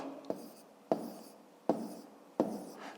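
A pen writes on paper, setting down numbers for a school subtraction sum in four sharp, evenly spaced strokes, each tapping down and then trailing off in a soft scratch, close and quiet, with no talk.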